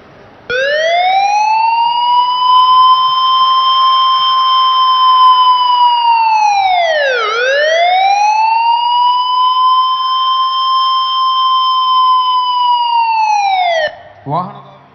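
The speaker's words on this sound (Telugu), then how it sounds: "సైరన్ మోగి ఆగగానే జాతీయ గీతాలాపన వెంటనే ఆరంభించాలి" A loud siren wails at a mass national anthem singing event at Abids, holding a long steady tone, dipping once in a slow swoop mid-way, then cutting off abruptly near the end.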